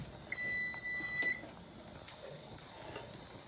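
A single high electronic kitchen timer beep lasting about a second, fairly faint against quiet room noise, followed by light clatter and small knocks.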